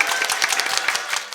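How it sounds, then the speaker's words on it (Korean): Brief burst of audience clapping at a welcome reception for those who passed the 30th certified judicial scrivener exam, moderately loud and dense with no talking. "여러분 박수 부탁드립니다."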